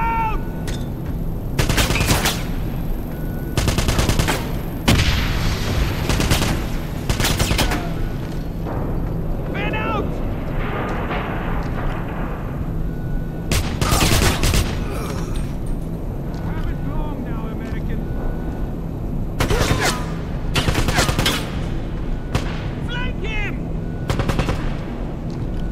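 Wolfenstein gameplay on a zeppelin: repeated loud bursts of gunfire and machine-gun fire, some sharp and close, between shouted voices of soldiers and a steady background rumble.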